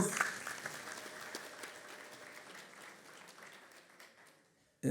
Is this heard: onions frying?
no